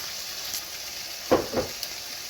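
Potato frying in a pan gives a soft, steady sizzle, with a couple of brief stirring scrapes partway through, close-up and fairly quiet, with no talking.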